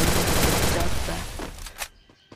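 A burst of rapid gunfire from the video game Free Fire rattles loudly for nearly two seconds, then cuts off, with one last sharp report and a brief tail.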